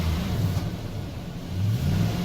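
A 2009 Nissan Titan pickup engine idling after a fuel pump replacement, a steady low throbbing rumble close by with slight swells in revs, no talking.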